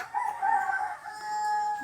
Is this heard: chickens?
yes